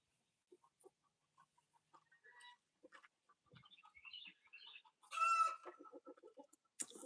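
Backyard chickens and roosters clucking sparsely and softly, then a louder rooster crow rising near the end, with quiet gaps between calls.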